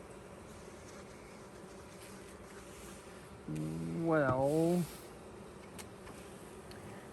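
Honeybees stirred up during a hive inspection after a swarm hum in a steady, close drone, with a brief spoken word cutting in partway through.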